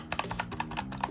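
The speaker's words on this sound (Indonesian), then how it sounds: "kalau kita coba ketik" Keystrokes on a Digital Alliance Meca Fighter Ice tenkeyless mechanical keyboard with brown switches: a quick run of soft, muted clicks in an uneven typing rhythm, close and fairly quiet, with no talking.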